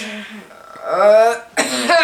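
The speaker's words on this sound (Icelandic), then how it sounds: "ekki hósta á okkur" On an Icelandic entertainment show, someone coughs close to the mic: two loud, rough bursts separated by a short pause.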